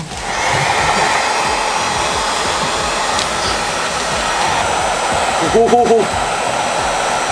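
A hair dryer blows steadily at close range to dry a dog's fur, a constant loud whir throughout, with a brief vocal laugh near the end.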